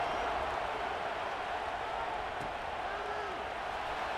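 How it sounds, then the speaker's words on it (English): Stadium crowd in College Football 26 at an Iowa Hawkeyes home game, a broad, steady roar of thousands buzzing after a score, filling the whole span without letting up. "this crowd is buzzing after that last score"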